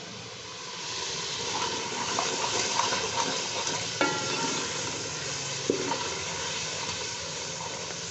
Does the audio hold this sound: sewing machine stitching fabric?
no